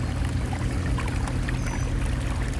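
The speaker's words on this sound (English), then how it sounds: "You hear the fountain behind me?" Water from a fountain splashes and pours in a steady continuous wash, fairly close and even in level, with no voices.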